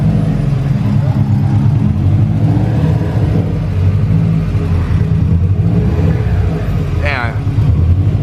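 A Subaru WRX STI rolls in with a deep, steady engine rumble, fairly close and loud, its low drone continuing throughout while people talk over it.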